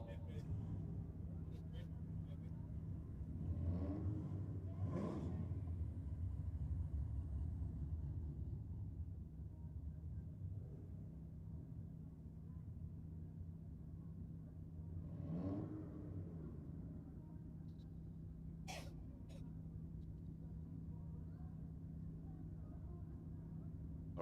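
At Sydney Dragway, a BMW and a Commodore drag race, heard as distant, muffled engine roars that swell twice over a low background rumble, with a faint sharp noise late on.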